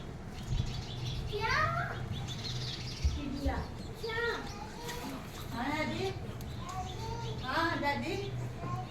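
Sparrows chirp in repeated quick bursts of short bright notes, fairly close, while people talk softly underneath.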